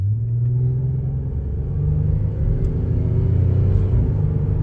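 A late-1990s Buick Riviera with a naturally aspirated 3.8-liter V6 revs up, a loud, close, steady engine drone that climbs gradually in pitch with no talking.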